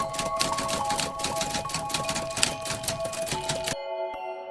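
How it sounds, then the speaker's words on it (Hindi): An old typewriter clatters in a rapid run of key strikes for several seconds, loud and close, then stops abruptly into near silence. "जैसे ही उसने शुरुआत की, टाइपराइटर अपने आप शब्द लिखने लगा"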